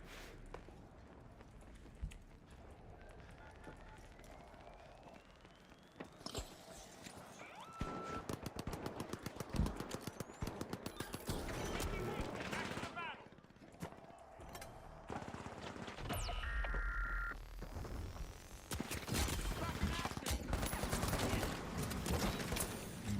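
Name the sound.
placed turret firing its gun, from video game The Finals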